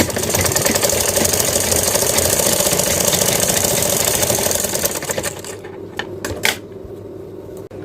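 A sewing machine stitching a lehenga blouse runs in a loud, steady mechanical whir for about five seconds, then stops, leaving a few handling clicks and taps.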